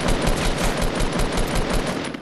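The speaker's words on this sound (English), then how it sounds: "I hear that shooting" Loud, continuous automatic gunfire in Fortnite, a rapid unbroken stream of close shots filling the whole moment with no talking.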